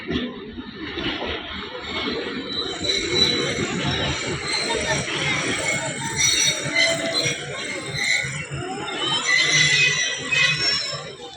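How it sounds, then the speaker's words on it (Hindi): A train pulls into Taxila railway station, its steady rumble, wheel noise and metallic clinks filling the platform, while someone talks over it continuously. "ये आ गई जी ट्रेन यहाँ पे टेक्सला रेलवे स्टेशन पर अराइवल कर रही है"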